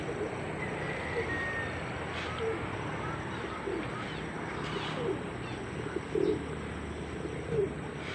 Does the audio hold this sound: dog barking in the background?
no